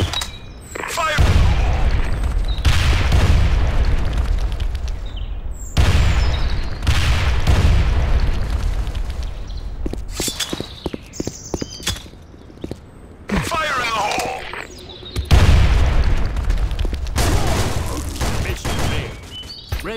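Animated battle with bursts of gunfire fusillades and booming explosions in repeated loud volleys, interleaved with rapid shots and voices calling out.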